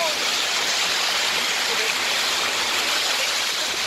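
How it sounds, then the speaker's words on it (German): A raging floodwater torrent pours down during dangerous flooding in Geisa, a loud, continuous rushing roar of water close by with no break. "Das ist ein reißender Fluss hier"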